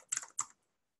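Two crisp, close keystrokes on a computer keyboard while a text message is composed, followed by silence.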